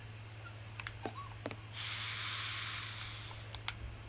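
A video-game dog in an undersized cage gives several short, high whimpers and whines, quiet and close, over a low steady hum, with a brief hissing swell in the middle and no speech.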